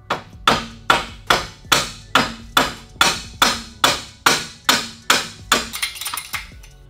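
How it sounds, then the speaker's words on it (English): About a dozen evenly spaced metallic whacks, a dead blow hammer striking a wrench to loosen a bolt on a BMW E46 control arm, each ringing briefly before the next blow, close and loud. "take yourself a dead blow hammer, hit the edge of the ratchet or the wrench"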